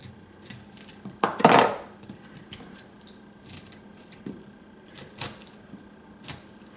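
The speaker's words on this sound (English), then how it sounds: "I'm just going to kind of rough chop it off of the stalk here" A knife rough-chopping cauliflower off the stalk, a few separated crisp cuts and board taps with one louder crunchy scrape early on, close and fairly quiet, no talking.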